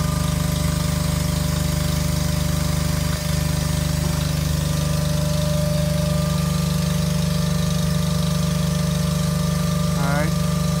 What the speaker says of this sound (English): Get a winch down. Just pick up from the ground.